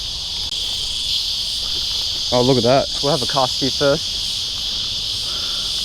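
Black cicadas near a lake give a steady, loud high-pitched buzzing that fills the scene throughout, while someone speaks briefly over it up close.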